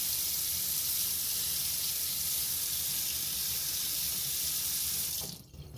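Cold water gushes from a sink faucet at high pressure after a clog was cleared: a loud, constant rushing spray close by that cuts off abruptly near the end, with no voices.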